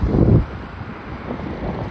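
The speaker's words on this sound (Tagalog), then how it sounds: "Lakas ng hangin." Strong, cold wind buffets the microphone at a beach during an outdoor birthday gathering, a steady low roar that swells loudest in the first half-second and then keeps gusting without any voices.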